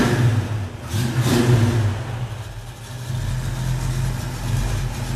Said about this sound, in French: le petit glouglou au ralenti